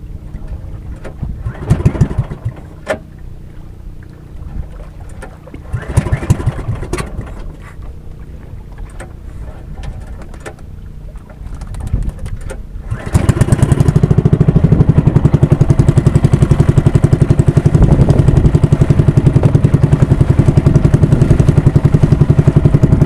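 A boat engine sputters and knocks a few times, then catches and roars steadily and loudly, running on without any talk.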